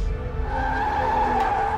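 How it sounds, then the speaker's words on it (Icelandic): A car braking hard with its tires skidding and squealing, one continuous screech held for the whole stretch, close and loud with no voices. "Þetta var bíll að bremsa."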